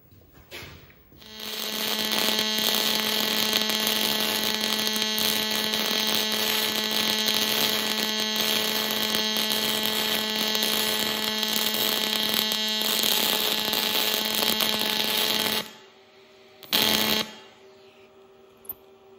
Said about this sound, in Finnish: mä painan siihen nyt vähän lämpöjä ja katsotaan sitten sitä hitsaamista